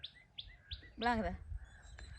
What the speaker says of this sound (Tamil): இயற்கை இந்த குயில் சத்தங்கள் கேட்க செய்யுது